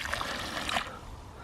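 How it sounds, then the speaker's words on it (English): Water is poured into a hole holding mortar mix, a short close trickle and splash that runs for under a second before fading into soft background noise. "So I'm going to add a bit of water in this hole, let it soak in."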